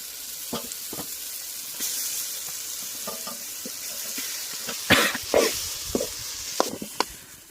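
Mashed potato mixed with turmeric, chili powder, salt and coriander powder frying in a pan for alu chapathi stuffing, a steady close sizzle with scraping stirs and a few sharper clinks of a spoon against the pan.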